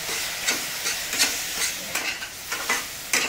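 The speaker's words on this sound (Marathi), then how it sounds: "तर आता याच्यामध्ये आपल्याला थोडंसं दूध घालून घ्यायचं आहे। तर कोमट दूध घालून घेतलेलं आहे मी। व्यवस्थित असं आता आपण मिक्स करून घेऊया।" Warm milk is mixed into a sugar mixture in a pan for peda, with a rhythmic series of close stirring scrapes, roughly one every half second, over a continuous sizzling hiss.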